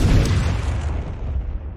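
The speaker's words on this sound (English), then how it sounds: "He blows everything up!" A loud, booming explosion from a video game fight involving fire-controlling Cole of inFAMOUS, a single heavy blast with a rumbling low tail that fades over about two seconds.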